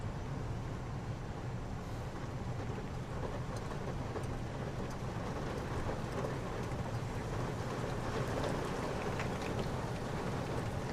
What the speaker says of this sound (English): Dadgum downpour.